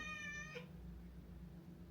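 A house cat begging for treats gives one clear, drawn-out meow up close, then falls quiet against a steady low background hum.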